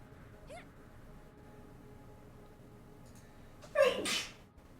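One loud, sharp sneeze near the end, close to the microphone, after several seconds of quiet background hum.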